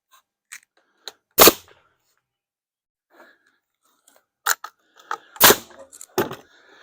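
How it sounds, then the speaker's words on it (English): A nail gun firing into wood during a build, a few sharp loud pneumatic bangs spaced apart with quieter clicks and handling knocks between them, close up, no talk. "So let me get my nail gun."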